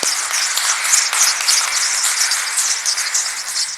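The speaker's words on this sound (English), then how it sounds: "Rounds of applause for the senator." Steady crowd applause fills the whole stretch, even and sustained, with many hands clapping at once.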